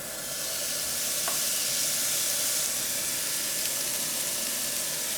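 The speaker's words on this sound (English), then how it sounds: "we're gonna go ahead and throw these steaks on here" Steaks sizzling on a grill beneath a portable range hood running on its low setting: a steady, dense frying hiss that fills the whole stretch without a break.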